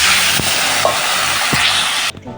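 Water hits a hot pan of fish curry spiced with coriander, cumin and fennel powder, giving a loud, steady sizzle with faint stirring scrapes before it cuts off abruptly.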